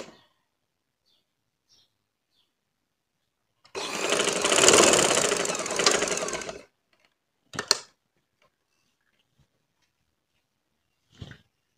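A sewing machine stitches the shoulder seams of a baby frock in one steady whirring run of about three seconds, with brief clicks of handling afterward in an otherwise quiet room.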